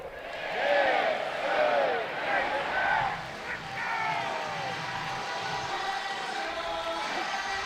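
A crowd at a college baseball game between Arkansas and Ole Miss cheers and roars in waves that fade to a steady murmur, with voices talking over it.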